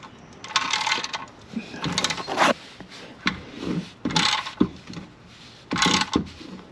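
A socket wrench ratchets in repeated short bursts while tightening the oil drain plug on a 2023 Jeep Grand Cherokee Limited with a 3.6 Pentastar V6, close, with metallic rubbing between strokes.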